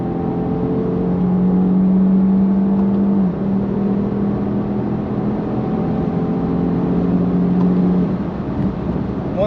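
Jaguar XF (X260) accelerating at full throttle with kick-down through its 8-speed automatic, heard from inside as a steady engine drone and whine that climbs in pitch, dips at a gear shift, then climbs again.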